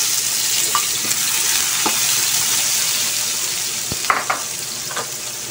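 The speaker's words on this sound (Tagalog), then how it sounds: "Lagyan natin ating sibuyas." Onion and garlic sizzle in hot cooking oil in a pan while sautéed pechay is being cooked. The frying crackles steadily, with a few utensil scrapes and clinks near the end and no talking.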